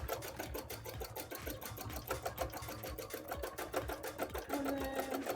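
A sewing machine stitches through a foam bra cup in a rapid, even stream of close mechanical needle strokes that runs unbroken from start to finish.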